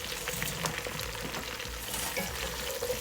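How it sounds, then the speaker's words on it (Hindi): Okra and onions frying together in a pan make a steady, close sizzle with soft scraping and stirring scattered throughout, and nobody speaks over it. "भिंडियों को प्याज में डाल के भूनेंगे"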